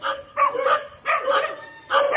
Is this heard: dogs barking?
yes